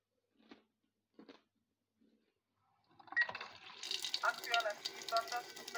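A few soft knocks and clatters, then tap water gushes steadily into a cooking pot at a kitchen sink, the pour growing fuller and louder toward the end.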